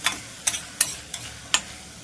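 A spoon stirs coriander and cumin powder in a pan for a potato and flat-bean curry, giving five sharp scraping taps spaced irregularly over a soft background hiss, with no voices.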